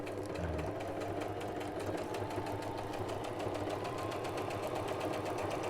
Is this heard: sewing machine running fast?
yes